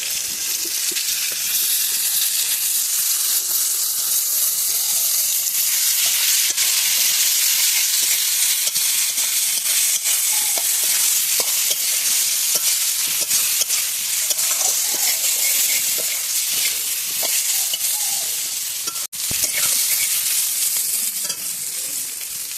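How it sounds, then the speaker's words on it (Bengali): Potato and aubergine fry in oil in a pan, giving a loud, continuous sizzling hiss broken by the scrape and clatter of stirring, with one sharp knock near the end and no talk. "আলুটা অল্প ভাজা হয়েছে, এখন বেগুন দিয়ে দেবো।"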